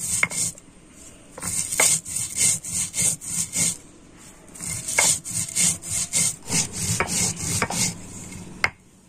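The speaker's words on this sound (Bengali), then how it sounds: "আমি শিলনোড়াতে মশলাটা গুঁড়ো করে নিচ্ছি" Spices for a mango pickle are ground by hand on a Bengali shil-nora stone slab with a stone roller, making close, rhythmic rasping strokes that repeat steadily with brief pauses, with no talking.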